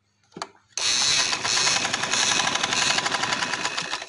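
A sewing machine stitches a lock seam on pajama fabric, starting after a brief tap and then running steadily and fast with an even, rattling needle rhythm, close and alone.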